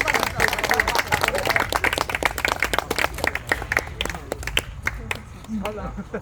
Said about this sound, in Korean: 포천시민 농구단 박수해주세요.